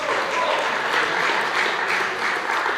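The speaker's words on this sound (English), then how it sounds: "you got a round of applause" A congregation at a Sunday church service gives a round of applause, a steady, dense wash of clapping that holds evenly for about three seconds with no voices standing out.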